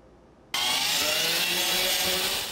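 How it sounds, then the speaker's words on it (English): Heavy drill operated during vocational training, starting abruptly and then running as a loud, steady, harsh grinding whir with a bright rasping edge, close and continuous. "This is Lin Jiaxuan, who is operating a heavy drill with ease."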